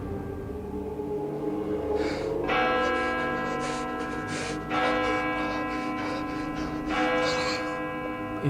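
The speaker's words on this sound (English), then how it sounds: "In a moment, bells will chime." Bells chiming with rich, ringing tones: several strikes sound in succession, each leaving a long, sustained hum, fairly loud and steady over a low background drone.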